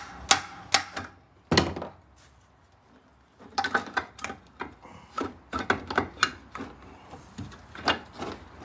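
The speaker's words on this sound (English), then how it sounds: "We're replacing the crank, so I'm hitting on it." Crankshaft being hammered and knocked loose during a Polaris Ranger 700 engine teardown, a series of sharp metallic taps and clunks in irregular bursts with brief pauses, close by and without talk.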